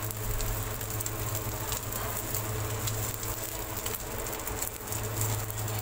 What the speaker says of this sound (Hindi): इस तरह सारे शामी मैं फ्राई करती जाऊँगी।